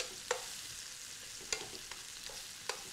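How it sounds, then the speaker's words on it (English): Sausages brown in a hot pan as each one gets flipped, a faint steady sizzle broken by several sharp clicks of the turning utensil, quiet and without speech. "I'm just going to flip each one of these over, make sure we get them nice and brown."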